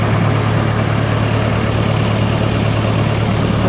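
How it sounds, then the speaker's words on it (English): A Massey tractor engine idles in a steady, continuous low rumble, loud and close with constant vibration and no change in pace; no start-up is distinct. "we'll start the tractor up"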